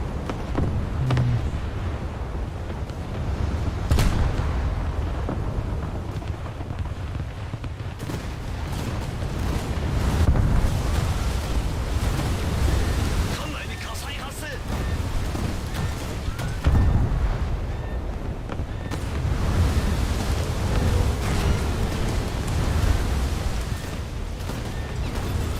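A torpedo strikes and sinks a ship in a naval battle game, heavy low booms and rumbling explosions rolling over a constant roar of sea and engine noise.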